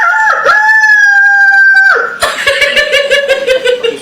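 A person loudly imitates a rooster's 4 a.m. crow, a long sustained call that breaks into a rapid cackling, laughing-like stutter at the end.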